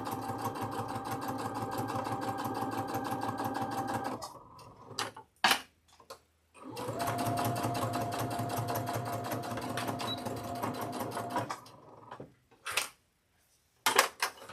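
A sewing machine stitches quilt block pieces in steady fast runs, close and loud, stopping twice with short pauses and brief handling clicks between bursts.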